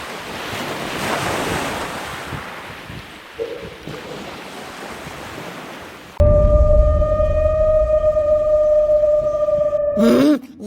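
Ocean waves and wind in a cartoon: a steady rushing surf and gusty wind noise, then a louder, denser roar of sea and wind under a sustained tonal hum, ending abruptly.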